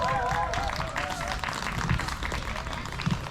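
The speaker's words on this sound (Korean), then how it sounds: "큰 박수 부탁드립니다." Crowd applause at an outdoor spring music concert on Nojasan mountain in 2024, a broad, fairly distant wash of clapping with brief cheers, starting under a voice that fades out.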